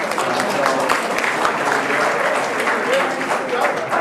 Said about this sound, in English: I'm going to ask if you would please give a quick round of applause